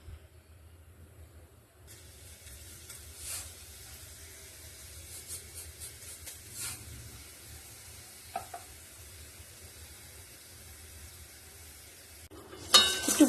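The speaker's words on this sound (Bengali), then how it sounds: "একটু বড়ি ভেজে নিলাম, ভেজে তুলে রাখছি।" Lentil dumplings (bori) fry in mustard oil in a wok, giving a soft, steady sizzle close by, broken by a few faint stirring taps and a brief clatter at the end, with no talking.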